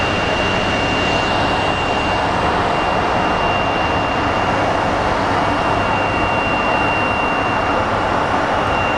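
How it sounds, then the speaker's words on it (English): CRJ regional jet departing Phoenix Sky Harbor International Airport, a loud, continuous broadband engine roar with a steady high whine, unbroken and without any voices. "CRJ is slowly departing."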